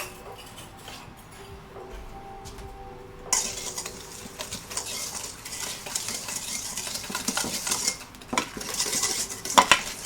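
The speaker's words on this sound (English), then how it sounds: "Now I'm going to get a sturdier whisk than this." A whisk beats egg wash in a bowl with rapid, rhythmic metallic clinking and scraping that grows louder after a quiet start, close and continuous.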